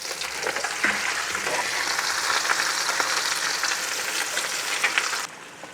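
Egg foo young frying in a pan over low heat, a loud steady sizzle filling the whole stretch with a few small crackles and a soft scrape as it is flipped, then cutting off abruptly near the end.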